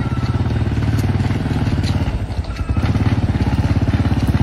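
A motorcycle engine runs steadily up close, a continuous rumbling putter with a rapid pulsing rhythm and a brief dip in the middle, loud throughout with no one talking.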